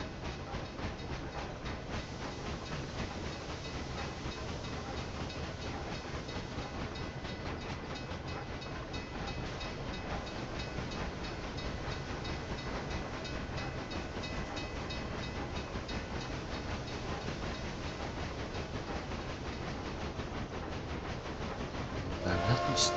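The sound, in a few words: cargo and passenger trains running in Railway Empire video game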